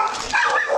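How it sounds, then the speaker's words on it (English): Several dogs barking in a backyard, short sharp barks and yips overlapping close by over a brief moment, loud and steady with no talk. "they rush toward the sounds of barking coming from the backyard"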